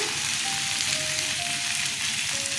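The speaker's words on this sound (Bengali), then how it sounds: "2 চামচ ঘি দিয়ে দিলাম এতে।" Ghee goes into a sizzling vegetable curry of water lily stems, peanuts and potato, and the pan gives a loud, steady, close frying hiss with no talking.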